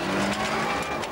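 Colin McRae's rally car pulls away in first gear on a twisting country lane, its engine loud and close, climbing steadily in pitch over roughly a second.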